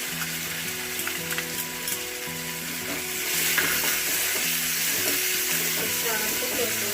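Chopped tomato sizzles and fries with onion in a hot pan while being stirred, a loud continuous crackle with scraping stir strokes that grows denser midway.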